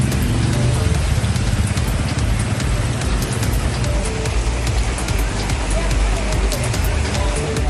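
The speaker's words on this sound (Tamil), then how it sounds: "உள்ளிட்ட பகுதிகளிலும் கனமழை பெய்தது" Heavy rain pours over Chennai suburbs such as Poonamallee, Mangadu and Kundrathur as a dense, loud, unbroken hiss of drops, with voice-like sounds faintly mixed underneath.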